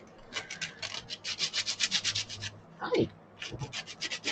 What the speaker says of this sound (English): It's sandpaper.